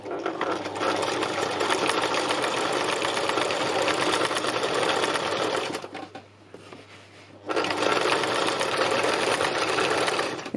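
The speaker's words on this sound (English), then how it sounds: "It's such a pleasure sewing through these fabrics. They're really nice and soft." A sewing machine runs steadily, stitching through soft fabric for a textile landscape piece, pausing briefly near the middle before resuming at the same close, even pace.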